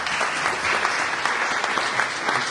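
An audience applauds after a speech at a book launch, with a sustained, even round of clapping from many people in the room.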